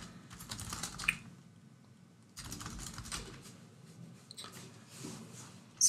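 Typing on a computer keyboard, close and soft, in uneven bursts of quick key clicks with short pauses and one louder tap at the end, no talking.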